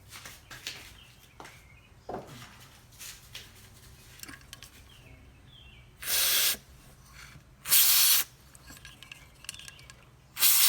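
Two long, loud hissing bursts from a spray can, each lasting about a second, with scattered clicks and handling noises around them.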